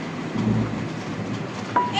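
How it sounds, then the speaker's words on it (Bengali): Heavy rain pours outside, heard from indoors as a steady, dense roaring hiss that stays even throughout, with a brief faint tone near the end. "বাহিরে কি পরিমাণ শব্দ হচ্ছে বৃষ্টির"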